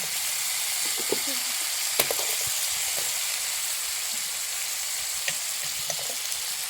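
Drumsticks coated in masala fry in a hot pan for a traditional Maharashtrian shevga bhaji, a steady sizzle running throughout with a few clicks and scrapes as they are stirred, close and fairly loud, no voices.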